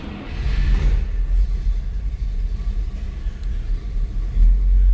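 A 1957 Buick Special Riviera Coupe engine starts cold and settles into a loud, close, low rumbling idle that swells again near the end. Nobody talks.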